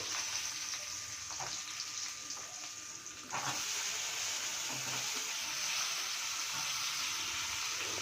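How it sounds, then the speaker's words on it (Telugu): Onion, tomato and tamarind fry in hot oil with a constant loud sizzle that jumps up sharply as more goes into the pan, with a few soft clinks early on. "అదే ఆయిల్లో ఎర్రగడ్డ టమాటో చింతపండు వీటిని వేసుకునేసేయాలండి"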